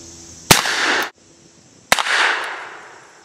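Two loud close gunshots about 1.4 seconds apart from a Webley Mk VI revolver firing Fiocchi .455 ammunition, each a sharp crack followed by a short echoing tail.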